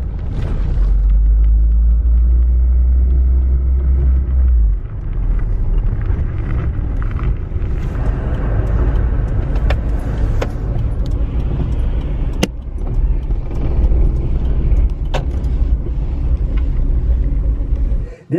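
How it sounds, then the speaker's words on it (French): A car drives along the road toward a repair garage, a steady close interior rumble of engine and tyres with occasional knocks and rattles, loud throughout until it fades at the very end. "Je vais conduire la voiture chez le garagiste pour voir si on peut la réparer."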